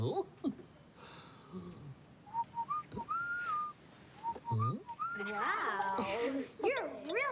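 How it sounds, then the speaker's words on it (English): A whistled tune of clear, pitched notes, starting with short tones and moving into sliding, warbling phrases, with voices and background sounds around it. "That wasn't me whistling."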